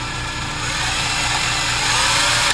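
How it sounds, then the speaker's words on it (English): A power drill spins a rod while a hacksaw blade is pressed against it to cut a groove for a compact fire piston, giving a steady, close, continuous whirring grind with no pauses. "I just start spinning the drill, and I hold my hacksaw blade right on that line where I want the groove to be"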